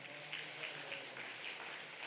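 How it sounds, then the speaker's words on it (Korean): Faint, steady church congregation applause of thanks during a Sunday sermon, a soft continuous patter of many hands heard from a distance at low level throughout. "다시 한번 감사 박수 드립니다"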